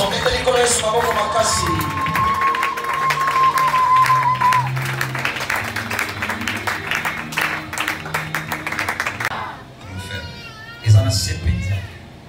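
A church congregation applauds and cheers loudly as a reverend evangelist is welcomed, sustained clapping and crowd noise under music and talk, then a brief quieter gap before a burst resumes.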